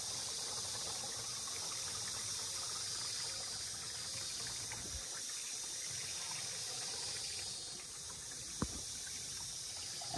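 Water runs steadily into a backpack sprayer tank while mixing pesticide, a continuous close hiss and trickle with a brief knock near the end.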